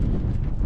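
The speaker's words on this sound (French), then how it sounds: "Il y a un vent de malade." Strong wind on the Col de l'Égita mountain pass during a trail race roars steadily into the microphone, as a loud low rumbling buffet through the whole short moment.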